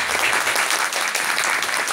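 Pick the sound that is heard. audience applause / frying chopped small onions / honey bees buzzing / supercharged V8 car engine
audience applause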